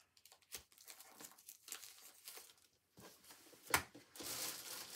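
Plain paper pages pulled out and crinkled by hand for a craft project, with close, soft rustling, crunching and a few sharp tearing bursts, rising to a denser crinkle at the end.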